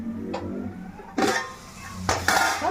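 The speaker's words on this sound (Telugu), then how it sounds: "కాసేపు మూత పెట్టేద్దాం." Metal cooking pot clatters twice as a lid is set on it while preparing egg biryani, two sharp clanks close up in a quiet kitchen after a faint earlier tap.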